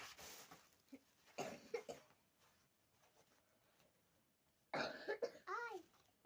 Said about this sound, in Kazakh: Мен кішкене жөтелдім.